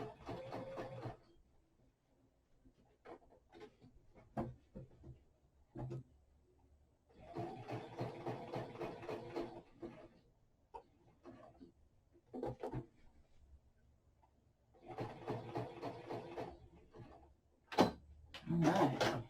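A sewing machine running a few short stitches on a fabric face mask, with brief whirring bursts separated by quiet pauses and handling noises, close and soft.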